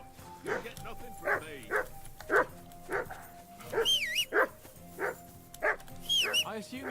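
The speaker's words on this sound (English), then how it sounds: "assume you can hear that damn dog of yours barking." A dog barks repeatedly in a medieval village scene from Kingdom Come Deliverance 2, with sharp evenly spaced barks and occasional yips heard over game dialogue.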